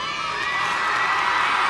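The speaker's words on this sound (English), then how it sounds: "you stop applauding the date, it's okay" Audience applauding and cheering in a hall, a steady wash of many hands with some whoops, loud and continuous through the moment.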